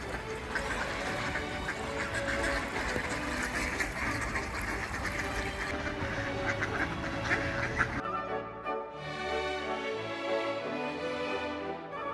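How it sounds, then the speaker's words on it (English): A crowd of ducks standing on ice beside Lake Ontario in winter quacks in a dense, continuous clamor while being fed, close and loud throughout. "feeding the ducks even though it specifically says don't do that. It's caused a riot."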